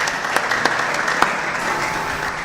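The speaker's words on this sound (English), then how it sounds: "Let's clap for this." An audience at a pan-African culture and arts forum claps together, steady dense applause with a few sharper individual claps standing out, no voices over it.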